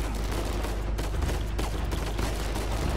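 Rapid, dense gunfire from a firefight in the Uncharted 4 video game, a continuous crackling barrage of shots that stays loud and close for the whole stretch with no pauses.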